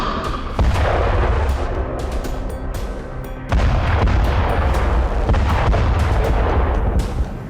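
Israeli airstrikes hit buildings in Gaza: two heavy explosions land a few seconds apart, each followed by a sustained loud rumble with scattered cracks and pops.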